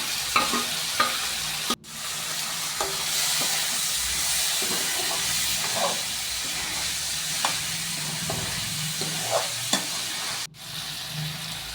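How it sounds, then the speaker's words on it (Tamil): Tomatoes and onions with curry leaves sautéing in a pan for a kari dish, giving a loud, continuous close sizzle with soft stirring scrapes and small pops, broken by two brief cuts. "இப்போ பார்த்தீங்கன்னா தக்காளி வெங்காயம்லாம் நல்லா வதங்கிட்டு இருக்கு"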